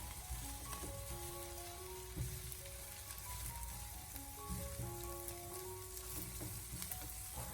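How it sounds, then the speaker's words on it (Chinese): Fried eggs crackle and sizzle softly in a wok over medium-low heat while a metal spatula scrapes and breaks them up, producing faint ringing scrapes over the steady frying. "接着再用锅铲把它翻炒一下，开中小火给它慢慢的翻炒一小会"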